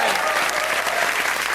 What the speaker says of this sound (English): Can we have a round of applause for the Freshwater Trio?